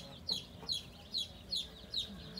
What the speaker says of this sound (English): Hi, baby chickens.